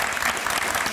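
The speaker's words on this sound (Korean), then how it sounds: "우리 박수 한번 드립시다." A brief burst of audience clapping at a Korean Christian testimony talk show, dense and fairly close, lasting about a second.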